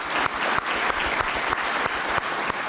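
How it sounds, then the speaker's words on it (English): Sustained applause from a standing audience during a speech, dense and steady with a few sharper claps poking out, filling the whole stretch without talk. "it was interrupted by a standing round of applause"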